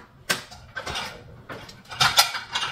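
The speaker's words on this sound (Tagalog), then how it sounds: "So ito lang mga kaldero ang ilagay natin doon sa lagayan." Metal cooking pots set down one after another on a home dish rack, giving several close clanks and clatters spread across a few seconds.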